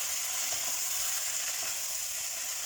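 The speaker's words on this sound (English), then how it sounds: "So you let it fry a little bit" Beef sausages frying in oil in a pan over lowered heat, giving a steady, dense hiss and crackle that holds without pause and without any voices.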